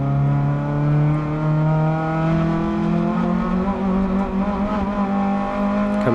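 A Renault Clio race car engine labors steadily under load going uphill on track, its harmonic drone rising slowly in pitch as it climbs, loud and close with no voices.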